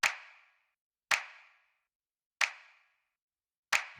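A gritty, distorted snap sample from a hip-hop mix hits four times in a slow, steady rhythm, each crack sharp and bright with a short fading tail and silence between.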